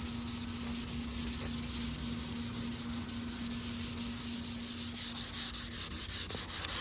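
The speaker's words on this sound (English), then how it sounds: "this is also going to get ran over with Scotch-Brite" Steady close-up scuffing and rubbing of a Scotch-Brite pad against a truck's painted surface, continuous with a faint fast back-and-forth rhythm and a low steady hum underneath.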